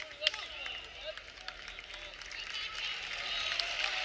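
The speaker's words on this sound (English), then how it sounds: "Crowd cheers. They like good wrestling." A crowd cheers and applauds steadily at a 174 lb college wrestling bout between Iowa State and Air Force. The noise swells slightly over a few seconds, with a commentator talking over it.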